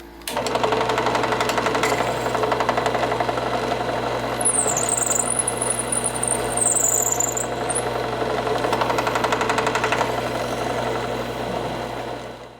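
A power drill whirs steadily and close by, grinding into wood for a hidden tang knife handle, not drilling all the way through, with a continuous buzzing drone that barely lets up for over ten seconds.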